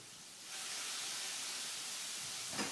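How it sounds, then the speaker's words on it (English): Rock shrimp drop into a hot pan with pancetta and garlic and burst into a loud, steady sizzle that holds close and even for a couple of seconds, with no talking. "I'm going to add my rock shrimp."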